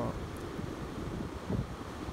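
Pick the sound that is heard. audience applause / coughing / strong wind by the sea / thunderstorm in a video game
strong wind by the sea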